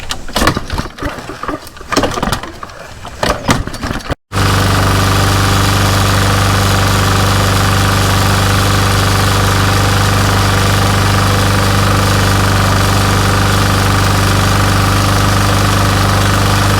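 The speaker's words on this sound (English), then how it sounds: "Now we're going to try to start it, see if it'll at least turn over a few times" A Husqvarna push mower with multiple faults cranks irregularly for a few seconds, then catches and runs at a loud, steady, close-up roar for the rest of the time.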